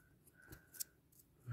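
Paper being creased and folded while making a paper strawberry, a soft close rustle with a brief sharp crinkle, followed by a low thump as the paper is pressed down.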